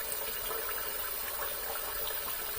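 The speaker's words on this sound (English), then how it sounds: "Sorry guys for the water noise." Tap water runs steadily during a shave with cheap disposable razors, a continuous broad hiss and gush close by, with no talking over it.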